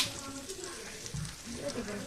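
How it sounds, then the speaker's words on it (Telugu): Dosa batter sizzles on a hot griddle, a steady frying hiss that stays moderately loud throughout with faint background sounds. "ఇంకైతే వేడెక్కిపోయింది పెనం, అట్టేసుకోవడమే"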